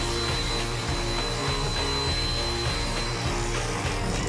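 Cream cheese mixture for a vanilla cheesecake is whisked at high speed, producing a continuous dense whirring drone with a faint steady whine, close and loud throughout, with no talking.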